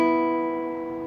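Two guitar strings, the B and high E, ring together as an interval of a fourth, a steady sustained tone decaying slowly and heard alone, close and clear.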